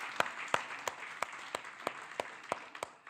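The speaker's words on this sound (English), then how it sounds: "Let's give her a round of applause again." Faint, slow applause at the closing session of the ULP WIE 2024 event, heard as about ten separate claps spaced evenly at roughly three per second, distant and quiet against a soft room hiss.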